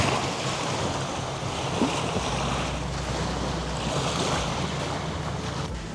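Steady wash of small bay waves lapping a shore in Bradenton, with a broad breezy rush and no voices.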